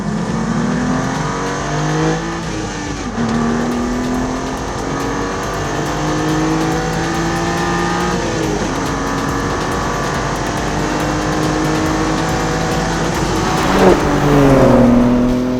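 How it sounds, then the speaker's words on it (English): A new BMW M4 Competition on a race track, its engine droning loudly and continuously, the pitch climbing through repeated rising sweeps as it revs up through the gears, with a brief louder burst near the end. "So we've driven the new M4 competition around this track"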